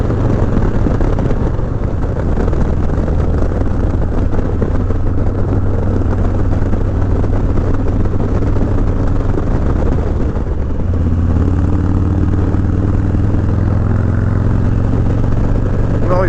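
A motorcycle engine droning loud and close at speed, the pitch climbing, then dropping at a gear change before rising again, with heavy wind rush throughout on a ride heading toward Yosemite.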